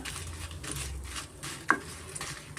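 Byadgi and Guntur dried chillies sizzle quietly in oil in a pan, with soft stirring scrapes and one sharp clink of utensil against metal.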